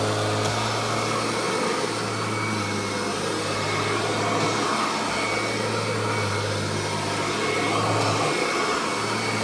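Self-propelled upright vacuum cleaner with an all-original transmission and its self-propel drive engaged, a steady loud motor drone with a low mechanical hum running throughout, no talk.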